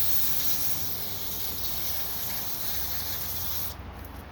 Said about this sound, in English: Brake fluid cleaner.